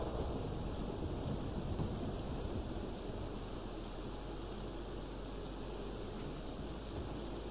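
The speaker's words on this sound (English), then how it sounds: "this game looks beautiful in the rain" Steady rain in the Red Dead Online video game, a continuous broadband hiss with low rumbling underneath, even and unbroken throughout with no talk over it.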